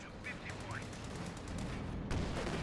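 A Pershing tank fires in a real-time strategy video game, heard as rapid, quiet cracks and bursts layered over steady battle noise, with a stronger blast near the end.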